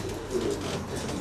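Racing pigeons in Gdynia, Poland coo softly and low, a murmuring burble close by over a constant background hum.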